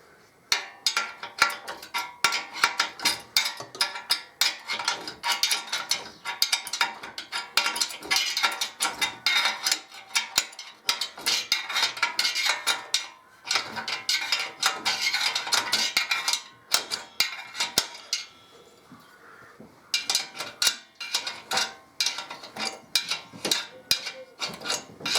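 A spanner ratchets a bolt into the swingarm of a 2005 Harley-Davidson Electra Glide in bursts of rapid metallic clicking, close and fairly loud, broken by short pauses and the clank of tools.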